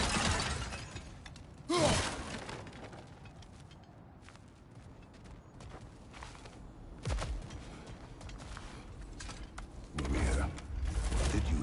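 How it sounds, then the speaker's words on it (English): Objects are smashed in the God of War Ragnarok video game: a few sharp shattering crashes ring out over a continuous bed of game ambience and mechanical creaking. "Ah, back to smashing through things for fun and profit."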